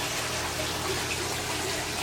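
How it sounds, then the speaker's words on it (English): Water gushing steadily into the grow beds of a barrel aquaponics system, a continuous, even rushing and splashing heard up close with no talk. "Now the beds are filling with water."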